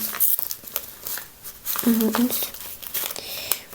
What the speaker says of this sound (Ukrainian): Ну, давайте пластирі відкриємо.